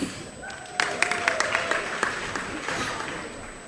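Scattered applause from a graduation ceremony audience, a few hands clapping in sparse, uneven bursts that stay fairly quiet and distant in a large hall, with faint background murmur.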